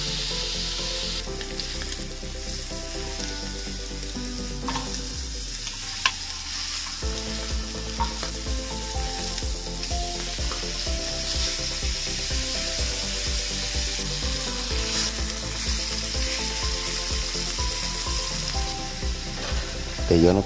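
Pork chops sear in a hot pan with olive oil and salt, giving a loud, continuous crackling sizzle close up, briefly shifting as the meat settles midway, with no talking.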